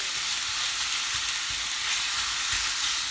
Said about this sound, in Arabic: غتبقاو تمشيو معاها حتى تحمروها، ماشي بزاف، غير يدخلها الطياب الكفته